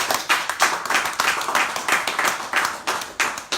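Audience applause at a live women's hour event, a dense run of clapping from many hands with rhythmic surges, close and steady throughout.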